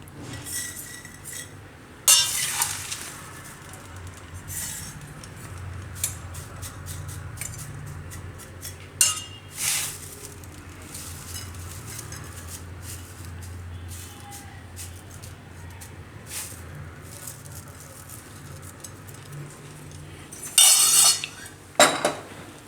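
Poha being plated for a Gujarati chaat, with scattered clinks and scrapes of a spoon against steel dishes, a few sharp close bursts standing out over a quiet kitchen background.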